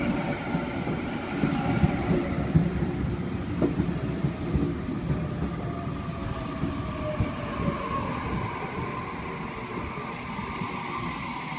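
A Sydney Waratah electric train at Waverton station platform, its steady low rumble and rolling rail noise continuous throughout, with a faint wheel squeal and a brief high tone partway through.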